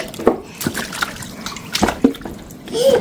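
Water splashes and drips while a young child is bathed and has her hair washed, with intermittent pours and sloshes alongside occasional voices nearby.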